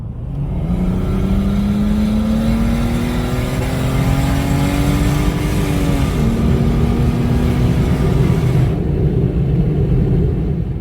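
A turbocharged Lexus IS300 engine on 7 psi of boost revs steadily and loudly, its pitch climbing through a long pull and then easing off, with a continuous close-up rumble and no talking.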